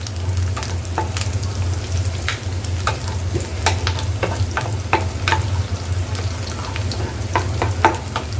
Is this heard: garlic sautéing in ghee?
yes